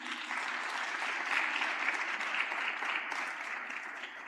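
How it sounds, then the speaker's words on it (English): An audience at a youth summit claps together in one sustained, even burst of applause, dense and fairly loud throughout with no voices standing out. "give yourself a hand of applause for being disciplined"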